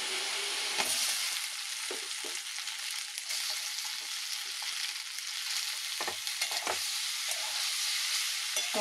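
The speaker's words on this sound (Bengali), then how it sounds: "আমি পাস্তাগুলো দিয়ে দেবো" Diced potato, carrot, a little onion and garlic sizzle steadily in a pan, with occasional louder scraping bursts from stirring through the continuous frying hiss.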